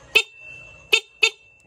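A loud truck-type horn wired through a relay on a motorcycle gives three short blasts: one first, then a pause, then two more in quick succession, each sharp and brassy and close by, with a faint steady tone between.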